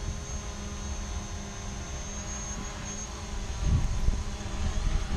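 DJI Mavic Pro quadcopter drone lifting off to about three feet, with a steady high-pitched whine over a low hum that grows slightly louder toward the end, close by and without speech.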